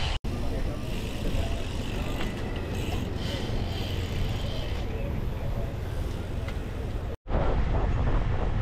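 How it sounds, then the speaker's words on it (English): Strong wind buffets the microphone while riding across a bridge in Penang during a group bicycle ride, a loud continuous roar with a brief dropout near the start and another near the end. "Wind is terribly strong here."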